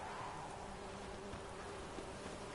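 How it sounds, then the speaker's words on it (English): Wasps buzz in The Witcher 3, a faint continuous insect drone under a low ambient hum, steady with no voices. "you hear them wasps?"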